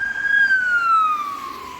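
An ambulance siren wails steadily on a road, a loud, close tone sliding downward in pitch as the vehicle passes, heard alone without talk.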